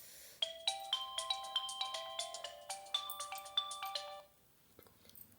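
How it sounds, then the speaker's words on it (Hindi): A mobile phone ringtone plays a bright, repeating melodic tune for about four seconds, close and clear with no talking, then cuts off. "फ़ोन बज रहा है तो थोड़ा सा देखना पड़ेगा एक बार।"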